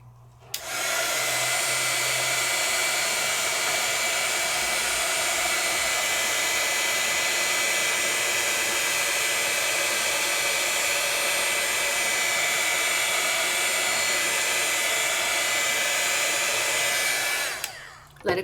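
A heat gun blows continuously to melt embossing powder on paper die cuts, a loud, even rushing roar that starts abruptly, holds steady without a break and cuts off sharply at the end; no talking.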